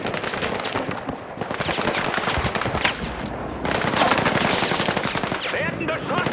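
Sustained automatic gunfire from a Battlefield 6 firefight, dense bursts of rapid shots rattling almost continuously for several seconds, loud and close with overlapping distant fire.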